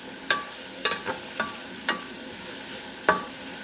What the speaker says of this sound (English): We're going to saute it up, get it going here, let the sausage flavor the rest of it